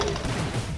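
A big wind-up gun fires in The Expendabros, producing a dense, continuous burst of rapid shots that sounds loud and close for under a second.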